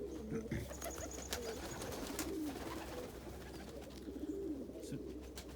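A blue check pigeon hen coos softly amid a snowstorm, low repeated coos under steady background noise, with someone talking over parts of it.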